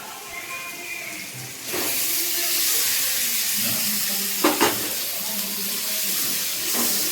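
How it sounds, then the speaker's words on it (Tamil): Onion, ginger-garlic paste and tomato fry in a pan for a chicken and prawn dish, a steady hiss of sizzling with a few clanks of stirring, close and moderately loud, no talk. "வெங்காயம் இஞ்சி பூண்டு பேஸ்ட் போட்டு வதக்கிட்டு தக்காளி போடுறோம்"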